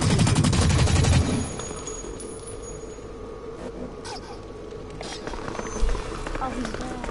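An assault rifle fires a rapid burst in the video game Blacklight, a loud, dense rattle for about a second before it drops to quieter game ambience and scattered distant shots, with voices talking over it.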